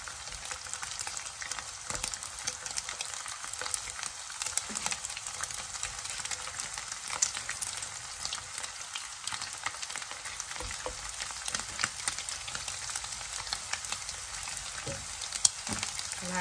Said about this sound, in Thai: ไปทอดกันเลยนะคะ